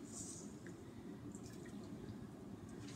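Water trickles and drips into a bowl of flour and salt for art dough, a faint steady splashy pour under quiet room noise.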